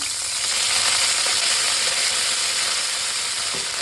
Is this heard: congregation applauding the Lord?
no